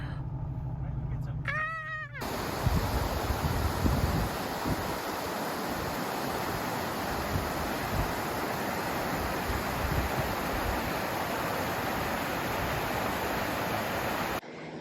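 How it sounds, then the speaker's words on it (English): A creek flows in a steady, broadband outdoor rush, continuous and fairly close for the whole stretch, with a brief tonal bleep at the start and some wind buffeting. "This creek is about 5-7 minutes from our house, so while we don't have running water right on our property, we can always come down here and enjoy it."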